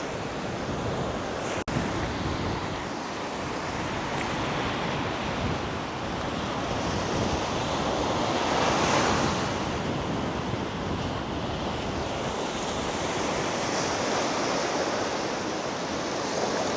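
Sea waves break and wash along a beach in Cuba, a continuous roar of surf that swells and recedes, with wind buffeting the microphone and one sharp click early on; no voices.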